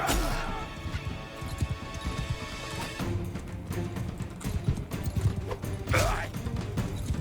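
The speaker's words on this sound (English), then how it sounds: "I'm going to ride around on my horse and help out." Horse hoofbeats during a Mount & Blade II: Bannerlord battle, mixed into dense game noise with crashes and clashing of melee combat, a steady busy din with occasional sharper impacts.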